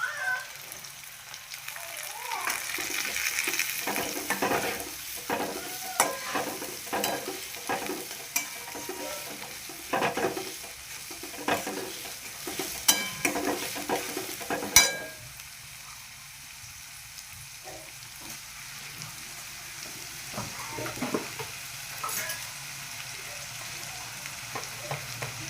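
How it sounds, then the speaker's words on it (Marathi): Onion fries in a pan with garlic and mustard seeds, giving a close sizzle under frequent, irregular clatters and scrapes of stirring. The sizzle is busy at first, then settles to a quieter, steadier frying. "लसूण टाकल्यावरती आपण टाकूया कांदा."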